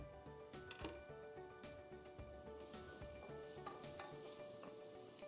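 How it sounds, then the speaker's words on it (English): Onions and garlic go into hot, smoking curry powder in a pan for a pumpkin curry sauce, followed by a steady close hiss and sizzle and a few scraping stirs, with no talking. "I'm gonna add my onions and my garlic."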